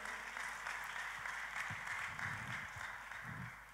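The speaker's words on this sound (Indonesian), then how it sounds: "Kita kasih tepuk tangan saudaraku." Audience applause at a church sermon, a steady wash of many hands clapping at moderate loudness with faint voices underneath, lasting a few seconds.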